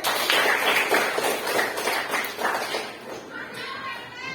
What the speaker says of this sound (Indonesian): Tepuk tangan untuk Samsul Ma'arif